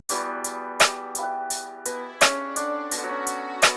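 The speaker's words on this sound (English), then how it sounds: "I added this snare right here. And it's just a simple snare." A simple snare drum in an old-school FL Studio beat cracks on a regular backbeat over a looping melodic pattern and hi-hats, punchy and prominent, no talking.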